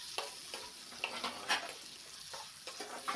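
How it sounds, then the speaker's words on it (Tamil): Onion, garlic and ripe tomatoes sautéing in a pan for fish curry give a faint, continuous sizzle with scattered soft stirring scrapes, close and quiet. "சேர்த்துட்டு இப்போ இது எல்லாத்தையும் வதக்கி விட்டுக்கலாங்க."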